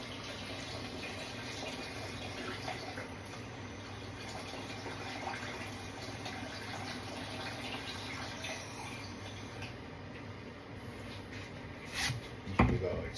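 Water filling a container over a turkey soaking in a salt and sugar brine, a steady continuous wash of liquid close by, with a brief louder splash near the end.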